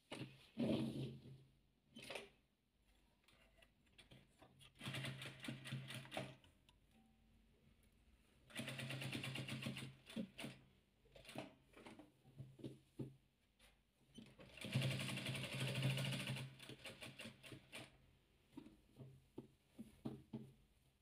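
Hand-sewing a soft 3D fabric ball, with soft ticking and pattering bursts of needle and thread work coming in clusters separated by quiet pauses, close and faint, with no talk.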